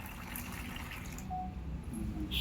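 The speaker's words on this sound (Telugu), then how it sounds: "అర లీటర్ వేడి వేడి నీళ్ళు తీసుకుంటున్నాను" Half a litre of hot water is poured for washing a white shirt, producing a soft, steady splashing and trickling that runs through the whole stretch at low volume with no one talking.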